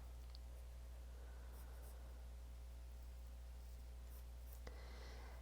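Soft, continuous scratching of a Blackwing 602 pencil on paper over a steady low hum, quiet and close, with a brief sharper tick near the end.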